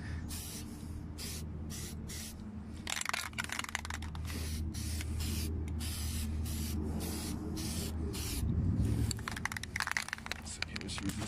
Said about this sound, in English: And I spray this and spray that.